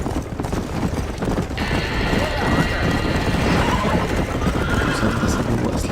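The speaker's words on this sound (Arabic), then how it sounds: "هو ايه الحصان ده؟ ازاي الحصان ده معايا؟" Horse hooves clip-clopping with a loud whinny in Red Dead Redemption, near and busy, with rumbling game ambience throughout.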